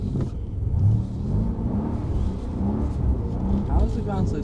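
A Mercedes-Benz car on a slippery painted, wetted track at Mercedes-Benz World gives a low engine rumble that rises into revving, heard under ongoing talk from people inside the car.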